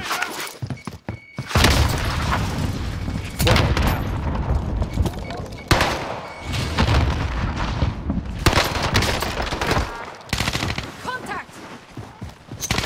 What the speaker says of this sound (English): I'm getting sniped at from somewhere else